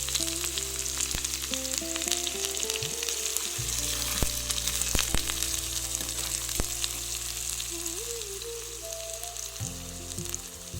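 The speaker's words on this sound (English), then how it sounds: "add the chopped onion to the kadhi and mix it well so that the onion is fried" Chopped onion fries in a kadhai with a steady, close sizzle and crackle that runs the whole time, over tonal background music.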